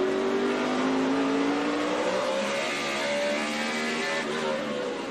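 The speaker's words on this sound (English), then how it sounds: "Listen to that engine" A NASCAR Sprint Cup race car engine at Martinsville revs hard, a loud, near engine howl whose pitch sweeps up and then eases off as the car accelerates, with no talk over it.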